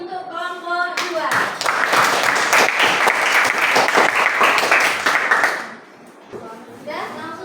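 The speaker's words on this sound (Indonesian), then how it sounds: "Kasih tepuk tangan untuk kelompok 2." A roomful of schoolchildren clapping together in a classroom, loud and close, lasting several seconds before fading, with brief chatter from kids before and after.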